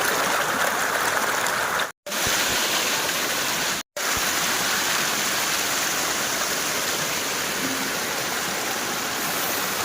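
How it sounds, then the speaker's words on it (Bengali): Rainwater pouring down from the hills during a storm roars as a loud, continuous rush like a waterfall, broken only by two brief cuts to silence. "পাহাড় থেকে বৃষ্টির সময় কিভাবে পানি নামে"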